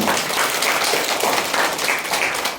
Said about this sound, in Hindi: आमेन जोर से ताली बजाइए प्रभु यीशु को।